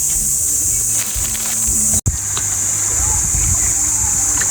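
Water splashing as people bathe and swim outdoors, a continuous watery wash with scattered splashes, a bright insect-like hiss above, one sharp drop-out midway and faint voices in the background.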